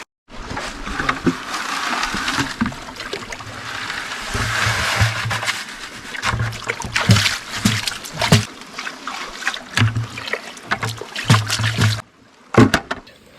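Material from a Goldibox sluice box is cleaned out into a gold pan, with water trickling and splashing, irregular scrapes and knocks, and a few louder bumps near the end.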